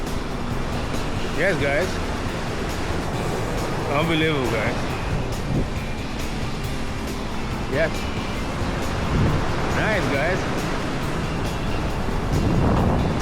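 Atlantic Ocean surf at Rockaway Beach rolls and washes steadily, with a broad, wind-buffeted roar that continues throughout, while someone talks excitedly over it in short bursts.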